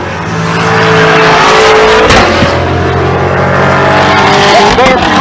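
A ZL1 Corvette and a Cadillac CTS-V launch side by side in a drag race at Pueblo, Colorado, with loud, sustained engine roar and revving close by, a brief sharp burst midway, and crowd or announcer voices faintly underneath.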